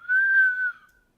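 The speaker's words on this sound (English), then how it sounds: "Oh, yeah, a little whistle." A man on a podcast whistles a single short, clear sustained note, close and fairly loud, that gently rises then falls before fading out.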